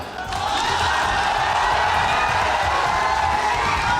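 Large outdoor crowd at a Bihar political rally for Tejashwi Yadav, a steady roar of cheering and shouting that swells early and holds loud and dense throughout, with no clear single voice.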